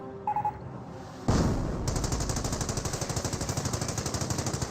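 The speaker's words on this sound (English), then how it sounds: "Mortar half tracks trying to engage in melee against the machine gun emplacement" A .30 cal machine gun emplacement in the video game Company of Heroes fires long, loud, rapid bursts with an even rattling rhythm, after a sharp boom at the start.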